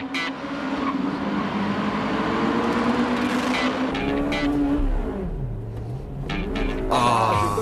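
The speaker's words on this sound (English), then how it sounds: "Still, the Civic car passes the light-tuned Altezza on the inside." Honda Civic Type R and a light-tuned Toyota Altezza racing on a circuit, engines revving hard and rising and falling in pitch through gear changes, loud and close, with one car passing the other.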